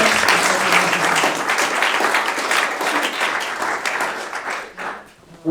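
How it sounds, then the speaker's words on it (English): Audience applause at the close of a panel session at a cybersecurity event for crypto startups, sustained clapping that gradually thins out near the end. "If you would give a round of applause again"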